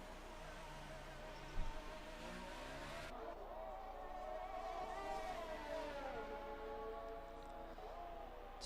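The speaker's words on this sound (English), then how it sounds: "I would hate to be Storm having to listen to that revving engine." A Formula 1 car engine in the F1 2018 racing game revs and whines steadily, its pitch rising and falling in sweeping bends, loud and continuous, with a brief thump early on and no talk.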